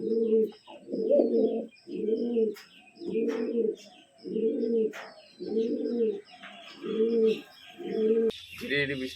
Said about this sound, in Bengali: কালো সবুজ নটটার ডাকটা কিন্তু অন্যরকম হ্যাঁ